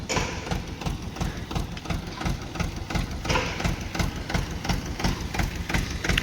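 A tractor engine runs close by with a steady, rough low rumble and faint rhythmic knocking that carries on without a break.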